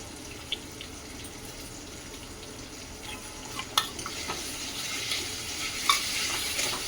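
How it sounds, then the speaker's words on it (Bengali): A tomato and yogurt masala cooks over a medium flame and is stirred now and then, with a faint, low sizzle and light scraping clicks that get busier toward the end. "এই যে মশলাটা খুব ভালোভাবে কষে নিচ্ছি"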